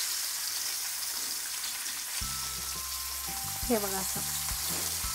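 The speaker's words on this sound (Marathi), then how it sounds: "बारीक गॅसवर भाजायचं।" Dry salted surmai fish roasts over a low gas flame with a steady broadband hiss, while someone talks over it in the second half.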